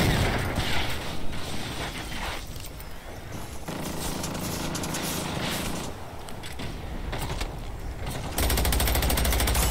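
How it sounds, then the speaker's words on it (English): Video game gunfire, dense mechanical bursts of shots mixed with clattering action sounds, loud and continuous throughout, with no talk. "Why are you shooting me?"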